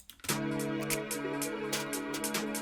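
A drum loop kicks in after a brief quiet start, with sharp snap hits layered among snares over a droning melodic backing.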